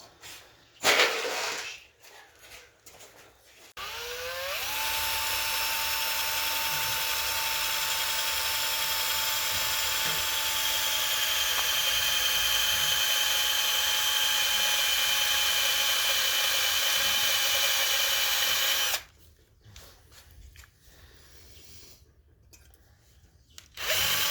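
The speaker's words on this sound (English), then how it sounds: "And the 1/8 drill." A 1/8 inch drill bit gives a steady, high-pitched drill whine running continuously for about fifteen seconds, preceded and followed by brief clicks and handling noises.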